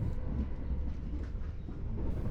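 Heathrow Express train running on the Great Western Main Line in adverse weather, a steady low rumble of the moving train heard from inside the carriage, with no talk.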